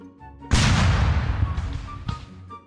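A T-12 bomb detonates in Garry's Mod with a sudden loud blast that rolls into a long crackling decay, followed by a few scattered shrapnel impacts; no speech.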